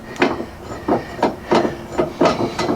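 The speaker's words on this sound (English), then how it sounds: "we'll pull this carriage bolt out of here" A carriage bolt is worked out of the torsion bar area of a rusty old 1956 VW Beetle, four evenly spaced sharp metallic knocks or scrapes, close and fairly loud.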